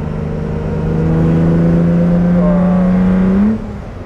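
A 1965 Lamborghini 350 GT with an aluminium body and a V12 engine revs up, its steady drone rising in pitch and holding strong before dropping off sharply near the end, loud and close.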